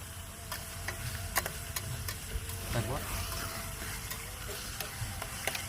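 Onions frying for biryani beresta in a pot at a rainy outdoor village campsite give a steady, close sizzle with scattered clicks and stirring scrapes, and voices are faintly present.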